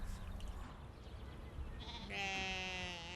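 A Soay sheep bleats in a long, wavering cry in the second half, standing out over an open outdoor wash of wind and ambient noise, fairly close and loud.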